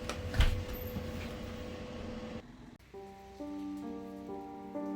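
Steady rain patters for a couple of seconds in Japan, then cuts abruptly to soft, sustained musical tones.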